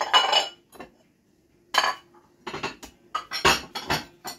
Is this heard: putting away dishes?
yes